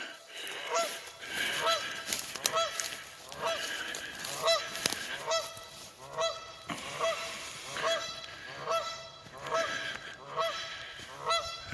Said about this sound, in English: Apparently this goose doesn't like me being out here too much.